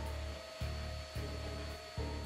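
Vacuum cleaner running on carpet in a consumer appliance test, a steady droning motor hum with a few brief surges in pitch as the head moves, heard alone without talk.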